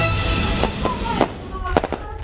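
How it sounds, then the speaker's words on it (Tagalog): Fireworks at the close of an outdoor concert in El Nido, Palawan, pop and crackle in several sharp bursts over a dense background of crowd noise and a talking voice. "Nagtapos sa fireworks display ang Sen of Concert ng atin ito coalition sa El Nido, Palawan."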